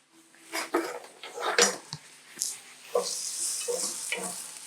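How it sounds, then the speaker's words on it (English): Onions cook in a heated pan, a steady sizzle rising alongside scattered clinks and scrapes of stirring, close and moderately loud with no talk. "Our pan is heating already. We can continue cooking our onions."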